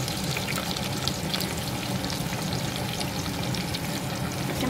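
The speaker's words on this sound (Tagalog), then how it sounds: "Ginisa ko yung una yung yung lemongrass. Isunod ko yung onion." Lemongrass and onion sautéing in a pan for chicken curry, a steady dense sizzle of frying that holds evenly throughout, close and without talk.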